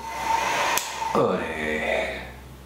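A handheld X-Sculptor beard dryer runs on its lowest speed setting, giving a steady, close airflow whir for about three seconds, with a brief click or bump partway through and a short shift in pitch.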